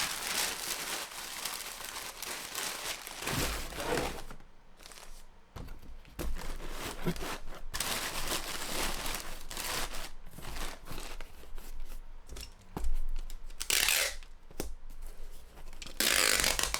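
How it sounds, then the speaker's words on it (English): Shipping paper is crumpled and stuffed into a used cardboard box for packing, with steady close crinkling and rustling that rises and falls in several bursts and pauses briefly, with no voices. "I'm going to put some shipping paper underneath it."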